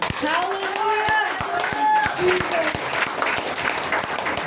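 Mothers in a church congregation clap along, a steady rhythmic patter of hands over sung or shouted voices, with a regular thumping beat underneath.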